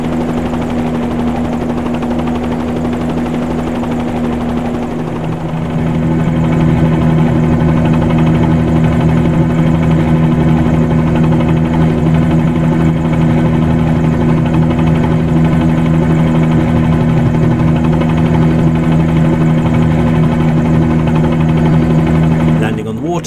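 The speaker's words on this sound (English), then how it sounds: "if I pitch forward and put in a little collective, I can indeed taxi around on the water" A small piston-engined Bell 47-G2 helicopter in a flight simulator idles while taxiing on water, its engine and rotor producing a steady, loud, droning hum with constant low harmonics throughout.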